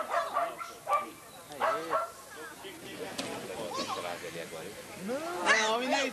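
A dog yips and barks in short bursts during an outdoor agility run in stormy weather, mixed with excited human voices shouting commands and encouragement close by.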